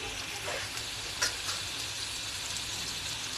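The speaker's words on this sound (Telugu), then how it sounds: "టమాటాలు కొంచెం నూనెలో వేగించుకుని మిక్స్ చేసుకుని పక్కన పెట్టుకోవాలి." Tomatoes frying in oil in a pan, a bright steady sizzle with a few brief stirring scrapes, close and continuous with no voices.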